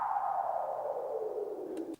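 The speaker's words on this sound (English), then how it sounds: "just like this downlifter here." A smooth synthetic downlifter effect in a minimal electro breaks track sweeps steadily downward in pitch for about two seconds, then cuts off abruptly.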